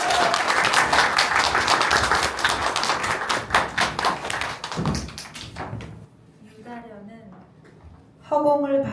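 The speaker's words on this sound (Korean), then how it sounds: "큰 박수 부탁드리겠습니다" Applause from the audience at a literary evening marking a writer's centenary, dense clapping for about six seconds that fades out, followed by a voice speaking.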